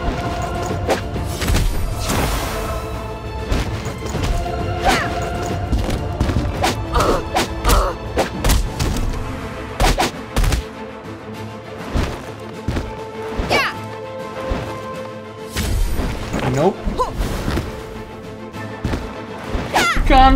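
Heavy attacks land in the fighting game Shadow Fight Arena, a dense run of smashing, thudding impacts and whooshes over a continuous game soundtrack, with a voice talking throughout.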